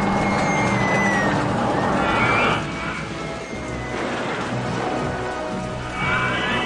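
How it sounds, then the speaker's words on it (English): Steady rain falls in the OpenRCT2 theme park game, a constant hissing wash that runs through the whole stretch with faint whinny-like game sounds and tones layered over it. "It's currently raining, yes."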